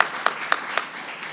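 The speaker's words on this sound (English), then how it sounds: "Let's give them a round of applause for a very exciting first round." Applause from a summit audience at a civic engagement panel, a few sharp claps standing out over a light, brief patter of hands in a large room.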